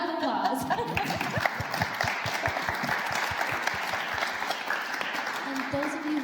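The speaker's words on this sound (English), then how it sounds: "let's have a big round of applause" A room audience at a student auditions Q&A panel breaks into steady, sustained applause that carries on throughout, with a few voices and light laughter mixed in under the clapping.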